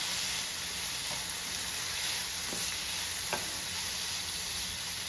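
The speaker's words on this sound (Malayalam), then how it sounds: "നമുക്കിതിലേക്ക് നമ്മുടെ വേവിച്ചിരിക്കുന്ന ചേന ചേർത്ത് കൊടുക്കാം ഇനി നമുക്ക് നന്നായിട്ട് അത് ഇളക്കി കൂട്ടി ചേർത്തെടുക്കാം" Cooked elephant foot yam stirred in a hot pan, a constant loud sizzle with a few soft scrapes of the spoon breaking through.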